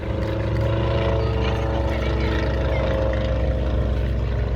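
An aircraft flies a belly pass at the Midlands Air Festival air show, its engine drone loud and continuous, with deep steady low hum and rough propeller buzz filling the whole stretch, no talking.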